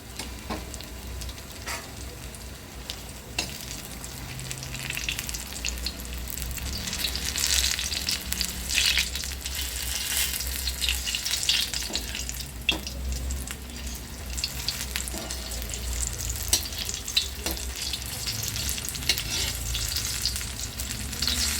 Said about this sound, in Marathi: किती मस्त भाजून होते मस्त आहे की आपली भजी बनत आहेत